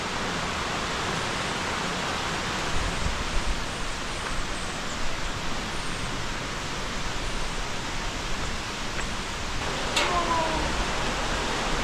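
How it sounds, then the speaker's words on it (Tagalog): Flowing water of a stream beside a forest trail in an eco-tourism area, a steady broadband rushing hiss that fills the scene evenly and stays moderately quiet throughout. "rinig na rinig mo na yung agos ng tubig"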